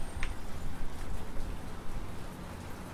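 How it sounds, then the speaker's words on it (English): Steady rain in a video game, heard from inside a car as a dense, continuous patter that stays even throughout with no voices over it. "It is raining."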